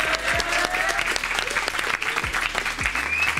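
An audience in a French talk-show studio applauds steadily, a dense burst of clapping with a few whoops and voices mixed in.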